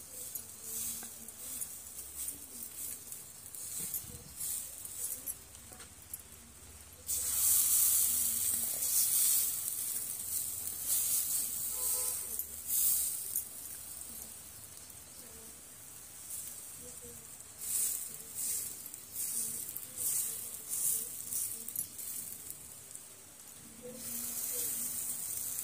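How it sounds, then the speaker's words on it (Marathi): Batter for a potato paratha breakfast hits hot oil in a pan over a medium flame, bursting into a loud hissing sizzle that swells and fades in waves, with occasional light utensil clinks. "गरम तेलावरच असं आपल्याला बॅटर सोडून घ्यायचं आहे"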